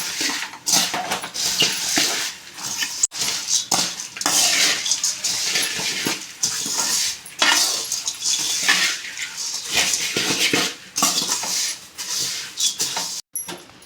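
Spiced puffed rice is tossed and mixed with salt in a pan off the heat, producing a continuous dry rustling and scraping with frequent clinks of a utensil against metal.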